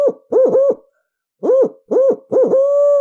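A turkey hunter's owl call imitates an owl's laugh, loud and close: quick doubled hoots in bursts separated by short pauses, ending in a drawn-out wavering note.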